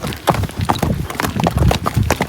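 Hooves of a ridden horse clip-clop in a quick, uneven rhythm, close and fairly loud, with faint background sound and no clear speech.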